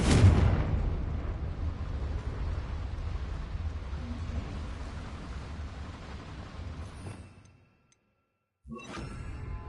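A Confringo spell blast in Hogwarts Legacy bursts loudly and sharply, then a roaring rumble lingers for several seconds before cutting to silence, with a brief burst of noise returning at the end.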